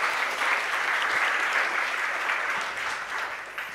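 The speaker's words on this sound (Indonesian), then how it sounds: "saya juga minta kita memberikan tepuk tangan yang paling meriah untuk pengurus yang lama" A crowd at a school gathering claps in loud, sustained applause, a dense steady roar of hands that eases slightly toward the end.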